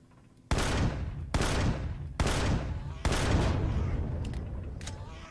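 Four heavy gunshots fired in the Empyrion: Galactic Survival video game during an assault on an abandoned factory. They are loud and close, spaced roughly a second apart, and the last leaves a long, rumbling tail.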